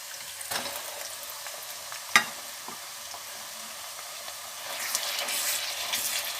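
Chicken mince tipped into a pan with onions and frying, a soft steady sizzle with a sharp clatter as it drops in, then the hiss rising louder toward the end, close by, no voices.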